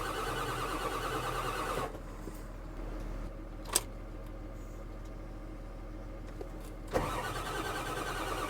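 A 1997 Ford 7.3 diesel truck cranks, goes quiet, then cranks again with a sharp clack midway, over steady low engine noise with no talking.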